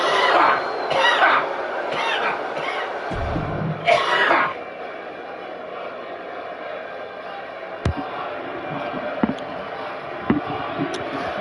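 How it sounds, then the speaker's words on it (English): Repeated coughs and throat clearing from a wrestling tournament commentator, several harsh bursts close to the microphone over the first few seconds, then quieter room noise with a few sharp knocks and clicks. "Got a cough. Hold on."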